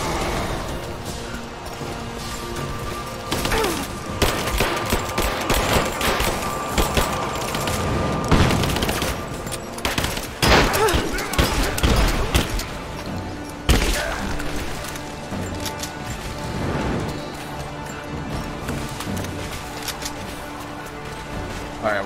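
Bursts of gunfire in the game Rise of the Tomb Raider, sharp cracks and heavy thuds scattered through a loud busy battle mix, with people talking over the shooting.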